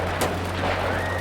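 An even louder exaggerated snoring effect comes out as a booming, explosive roar like artillery fire, with a sharp blast near the start and a sustained heavy rumble after it.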